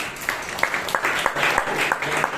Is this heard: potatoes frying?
no